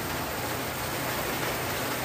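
Rain falling steadily, a dense even hiss of drops with no breaks, close and constant throughout.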